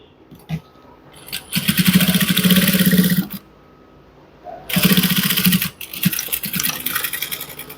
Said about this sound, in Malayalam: ഇതാ ഇങ്ങനെ ഒരു മടക്കിൽ സ്റ്റിച്ച് ചെയ്ത് കൊടുക്കുക